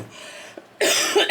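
A single short cough bursts out close and loud after a stretch of quiet room tone, trailing off with a slight second push of breath.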